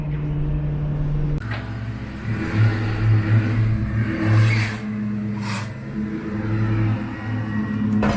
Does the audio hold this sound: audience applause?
no